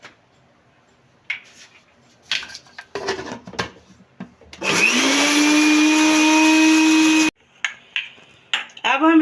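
An electric hand mixer beats an egg in a bowl for about three seconds. It gives a loud, steady, high whine that rises as it spins up, with sparse clinks and clatter of kitchenware before and after.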